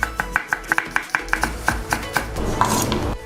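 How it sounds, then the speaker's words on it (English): A knife chops steadily on a board through Sri Lankan curry ingredients such as curry leaves, pandan, chili, lemongrass, ginger, garlic and red onion, with about a dozen crisp, evenly spaced strikes before a softer scraping sound. "now let's start choppies."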